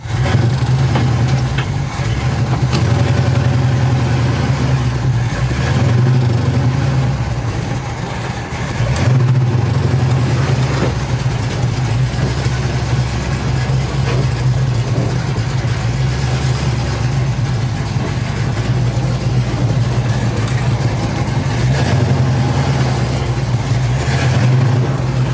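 Pontiac 455 V8 with a Quadrajet carburetor and no choke connected, idling loud and steady with a deep rumble and small dips in pace throughout.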